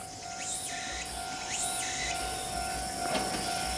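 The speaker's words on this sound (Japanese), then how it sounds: "木漏れ日の中をやってくる電車。" A Choshi Electric Railway train approaches a small station, a continuous rumble of wheels with high sweeping squeals and a steady tone over it, moderately loud and growing near.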